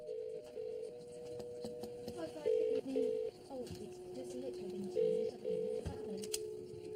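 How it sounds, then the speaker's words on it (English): Telephone keypad tones beep in short bursts as a phone box is called, some steady ringback-like tones between, with faint background noise and murmur. "Tom calls the phone box again."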